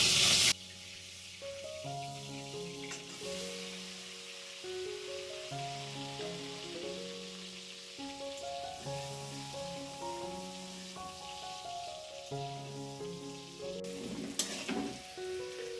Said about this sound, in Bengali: সেই আলুগুলো এবারে ছেড়ে দেবে, আলুগুলো একটু ভেজে নেবে।